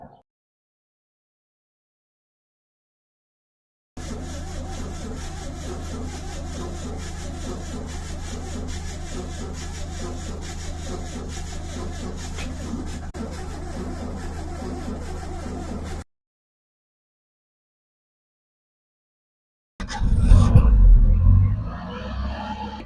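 1984 Citroën CX engine cranking and then running: a steady, even mechanical drone lasting about twelve seconds between silences, followed by a louder, rougher burst near the end.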